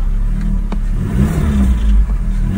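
A Volkswagen Golf engine with a valve or tappet fault runs close and loud, a steady rough mechanical drone with light tapping woven into the idle, and no voices.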